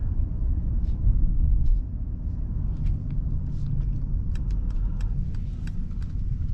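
A 2020 Mercedes-Benz GLE 450 4MATIC SUV in eco mode rolls along with a steady low rumble of engine and road noise, close and even throughout, with faint light ticks and clicks near the end.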